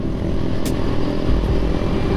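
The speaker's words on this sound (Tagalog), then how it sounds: "Ano bang motor to? Raider." A Raider motorcycle rides past on a road, its engine giving a steady loud rumble throughout, close by, with no voices.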